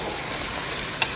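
Chicken haleem mixture with turmeric, salt, chili powder, coriander powder, garam masala and chicken masala being stirred in a pot, a brief hissing sizzle with a single scrape of the spoon near the end.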